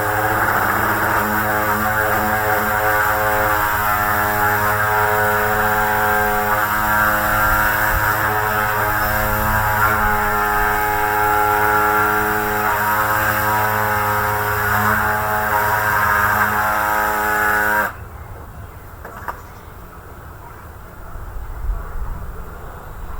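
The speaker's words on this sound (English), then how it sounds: "No, it's just a little pad sander," A small electric pad sander works over the wood of a bench being rebuilt, a loud steady droning hum that runs continuously for about eighteen seconds before cutting off into quiet.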